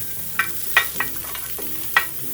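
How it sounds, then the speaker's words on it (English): Carrot and other vegetables stir-fried in a tablespoon of oil in a pan over medium-high heat, a soft steady sizzle with a few sharp spatula scrapes and clacks at close range. "Stir fry for about 1 minute on medium-high heat."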